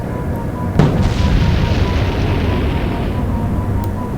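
A sudden deep explosion booms through an Atlantic Fleet naval battle in the video game, striking sharply and then rumbling on in a long low roar, with another faint pop near the end.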